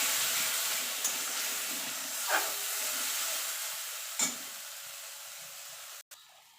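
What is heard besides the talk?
masala paste sizzling in a hot pan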